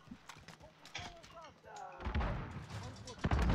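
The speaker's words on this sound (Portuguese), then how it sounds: "Caraca, estão tocando muito tiro." Gunfire in Call of Duty: Warzone (Modern Warfare 2019), a burst of loud shots and impacts in the second half, rising again near the end, with players talking over it.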